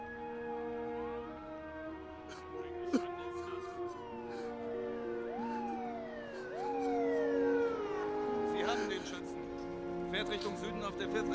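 Police car sirens wail in a film street scene, several overlapping rising and falling tones sweeping steadily throughout, with a brief sharp knock near the start and a busier mix of noise toward the end.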